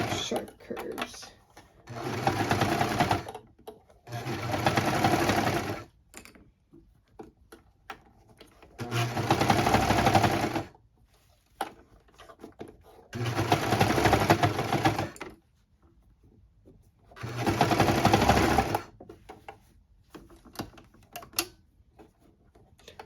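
A sewing machine stitching fabric for children's footie pajamas, running in five bursts of fast, even stitching a few seconds each, separated by quiet pauses with small handling sounds.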